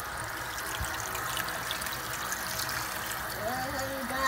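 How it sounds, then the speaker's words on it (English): Water pours steadily from a container into a packet of ramen noodles during home cooking, a continuous trickling hiss that rises slightly in pitch toward the end as the noodles fill. "Pour some water."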